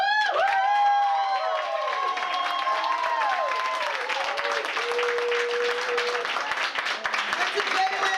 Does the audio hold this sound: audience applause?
yes